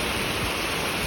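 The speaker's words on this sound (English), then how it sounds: "Look at the rain coming out." Heavy rain pours down during a flooding storm in town, a loud, unbroken wash of hissing water surrounding the listener without pause, no voices heard.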